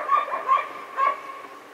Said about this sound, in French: Le chien refuse de se laisser.